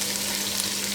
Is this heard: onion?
yes